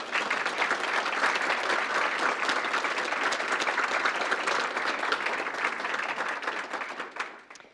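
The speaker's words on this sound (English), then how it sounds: "maybe just a quick round of applause for those folks" Audience at a school district board meeting and PTA awards ceremony giving a steady round of applause that holds for about seven seconds, then tapers off and stops.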